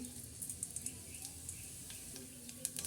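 Mustard seeds and cumin sizzling in hot oil for upma, a faint, steady frying hiss dotted with small scattered pops and crackles, heard close and without talk.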